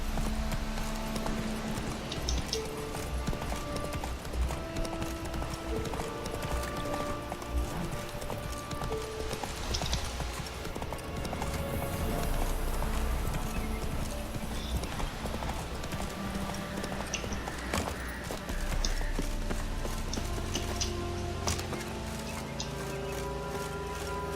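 Horse hooves in The Witcher 3, a steady clip-clop trot close up over a background of in-game music, with an occasional whinny.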